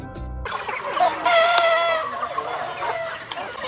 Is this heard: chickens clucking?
yes